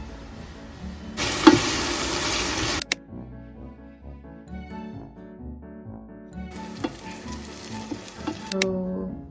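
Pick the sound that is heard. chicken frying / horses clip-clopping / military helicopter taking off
chicken frying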